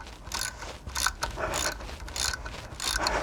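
A hand ratchet clicks in rapid bursts while tightening bolts on the rear differential of a Mitsubishi 3000GT, loud and close, with brief pauses between strokes.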